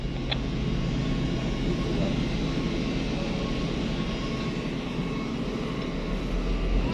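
A low, steady engine drone hums continuously, like a boat motor running at constant speed, with no clear change in pace.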